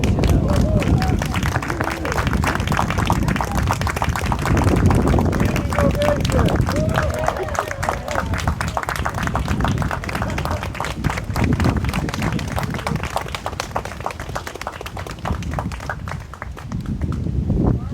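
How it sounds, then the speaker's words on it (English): A church congregation applauds during a Sunday worship service, a steady broad wash of many hands clapping that carries on for the whole stretch with some crowd murmur mixed in. "would it be okay if we give her a round of applause for everything she's done?"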